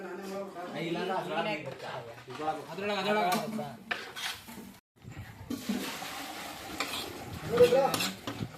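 Biryani cooking in a pot, with stirring and bubbling sizzle under steady nearby talk, the clatter of pots and a rushing hiss rising in the second half.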